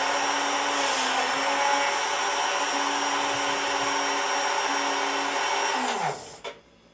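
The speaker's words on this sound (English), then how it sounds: "give it a flash blend in our drink mixer for 10 seconds with just the egg white and the bourbon" A drink mixer flash-blends egg white and bourbon, a loud, steady high-pitched whir that holds for about six seconds before the motor cuts off and spins down.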